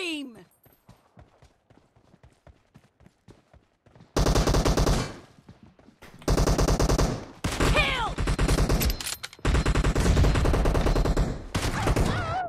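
Rapid automatic gunfire from a shooter video game, several dense bursts lasting one to three seconds each, loud and near, broken by short pauses, with faint clicks and footstep-like ticks before the first burst.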